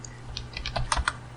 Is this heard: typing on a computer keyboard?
yes